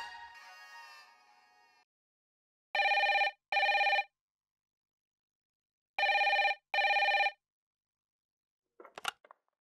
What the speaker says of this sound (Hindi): पता नहीं कौन बार बार फोन कर रहा है